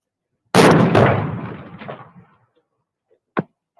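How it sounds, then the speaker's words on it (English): A single sudden loud blast from detonated breaching charges on windows, close and booming, decaying over about two seconds, then a sharp knock-like crack afterward in quiet. "wait for the explosion"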